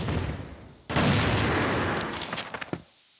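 Gunfire in a competitive shooter video game match: a sudden dense burst of shots cuts in and holds steady, then thins into several sharp separate cracks before dropping to silence.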